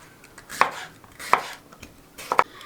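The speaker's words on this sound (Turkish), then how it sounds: "Bu şekilde biberlerimi doğruyorum" A knife chops through red bell peppers on a cutting board in three distinct, sharp strokes with pauses between, close and clear with no talking.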